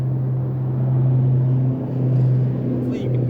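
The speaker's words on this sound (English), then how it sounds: "There's some traffic." Road traffic passing nearby with a steady low rumble and droning engine hum that swells and fades slightly, continuous in the background.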